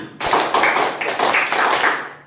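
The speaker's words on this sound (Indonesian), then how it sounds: "2 kali tepuk tangan" Students in a classroom clap their hands in unison, a couple of sharp group claps that come close and loud in a room, with no talking over them.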